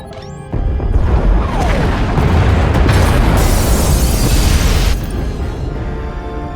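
Explosions tearing through the pod bays in the SWTOR game, a sudden loud boom followed by a sustained roaring blast and crashing debris that swells midway, then tails off into a lower rumble.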